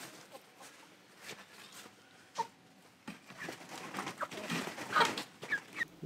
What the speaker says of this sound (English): Our chicken coop is over here.